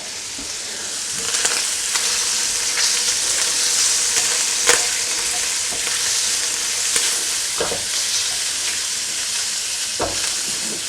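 Shrimp egg roll filling sizzles steadily in a hot pan, a constant frying hiss broken by sharp scrapes and clacks of stirring at irregular intervals, close and alone.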